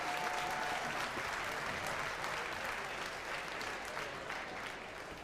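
At the Balmoral Show sheep shearing final, an agricultural show crowd gives a steady, full round of applause that holds evenly and eases slightly at the end.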